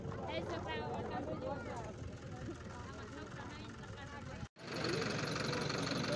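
A heavy diesel JCB backhoe engine rumbles steadily nearby, loud and continuous, briefly cutting out before resuming.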